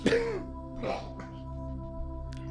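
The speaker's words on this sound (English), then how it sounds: "Clear my throat." A single person clears their throat with a rough, gravelly rasp, then a softer follow-up, over a steady low hum in a quiet room.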